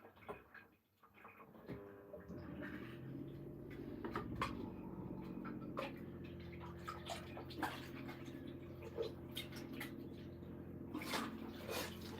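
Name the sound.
water running from kitchen tap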